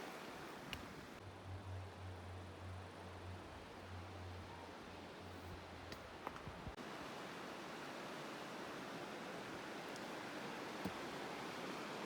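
Steady broadband rush of the clear Elbow River flowing under a bridge in the Kananaskis, constant and fairly loud throughout, with a low hum briefly underneath early on.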